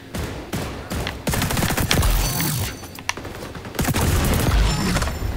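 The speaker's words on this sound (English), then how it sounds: "Damn, flashbang." Rapid automatic gunfire and a flashbang burst in the online shooter XDefiant, dense loud volleys of shots with short gaps and a sharp crack in the middle, no talking.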